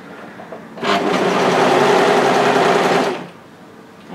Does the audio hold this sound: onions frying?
no